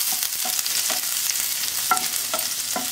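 Ajwain seeds and garlic roasting in a pan over a very low flame for spiced curd okra, a soft sizzle broken by a few short scraping stirs, with no talk.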